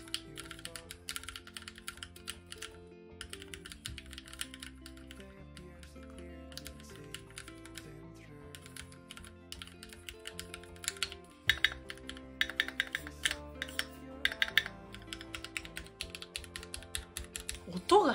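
Typing on a Keychron Q1 QMK mechanical keyboard in a quiet room, with a steady run of soft, even key clicks that grows busier and louder toward the end, while a person talks over it.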